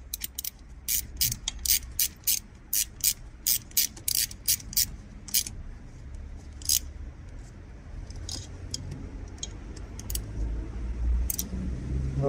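Ratchet wrench clicking in short bursts while tightening the three bolts on an Audi intake manifold flap position actuator, a close, crisp series of rapid metallic clicks with pauses between strokes over a low background hum.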